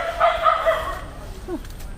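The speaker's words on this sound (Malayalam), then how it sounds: "പട്ടി കുറയ്ക്കുന്നത് നിനക്കെന്നാ?" A dog gives a few quick, close barks and yips, and a short whine follows.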